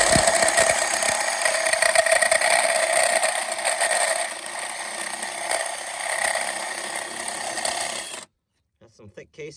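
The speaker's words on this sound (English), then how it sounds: "I'm sitting here drilling the hole now" A steady, high-pitched whine of a drill boring through thick metal well casing for a pitless adapter, running for several seconds before stopping abruptly.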